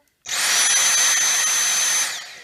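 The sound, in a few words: Dyson V6 Mattress handheld vacuum cleaner running at max speed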